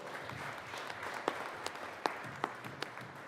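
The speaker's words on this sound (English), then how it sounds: "Let's give them another round of applause." Applause fills the Senate chamber during a legislative session, an even wash of many people clapping with occasional sharper individual claps rising above it, steady and moderately distant.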